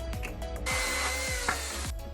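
A power drill pre-drills wood while building a garden compost bin: one steady, loud whine runs for about a second and a quarter, set apart by clunks and handling noise from the work.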